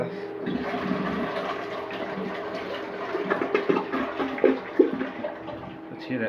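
A household toilet flushing nearby, water rushing steadily and then breaking into irregular gurgling bursts as a grocery bag clears the drain, with faint voices in the background.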